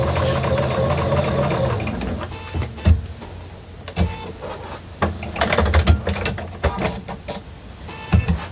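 A sewing machine stitches a quilt block for a pressed flowers series, a fast mechanical whirr in bursts, then stops and clicks as the fabric is handled between runs.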